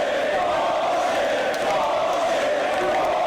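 Wrestling arena crowd voicing displeasure after a match is stopped, a dense sustained roar of boos and shouts filling the space, loud and continuous throughout.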